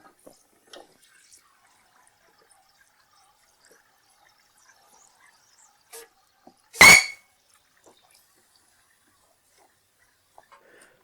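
A pressurised part from a Ford Anglia cooling system is dunked into water for a leak test, giving one short, sharp splash in an otherwise near-silent space with only faint scattered ticks.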